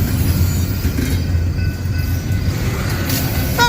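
A BNSF freight train rolls past in St Paul, Minnesota, a steady loud rumble of wheels and cars with a brief squeal near the end.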